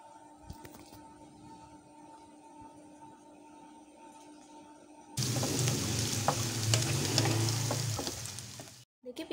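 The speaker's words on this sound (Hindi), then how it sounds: "अब इसको अच्छे से पिंक कलर की फ्राई कर लेंगे।" Chopped onions dropped into hot oil for a Hyderabadi green chilli curry, bursting into a loud, dense, steady sizzle close by after a quiet start, then cutting off abruptly near the end.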